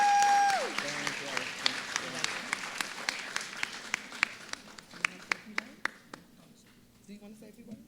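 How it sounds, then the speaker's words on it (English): Applause at a Brooklyn Asian-Pacific Heritage celebration: a brief voice at the start, then a moderate crowd clapping with distinct sharp individual claps standing out, the applause thinning and fading toward the end. "So please give our first honorary round of applause."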